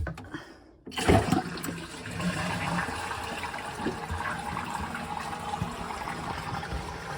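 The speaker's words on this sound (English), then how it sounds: "Turn that isolation valve on. And give it a flush." A household toilet flushes right after a plumbing repair with its isolation valve reopened, a loud rushing of water that starts abruptly and keeps pouring and gurgling steadily close by, with no talking over it.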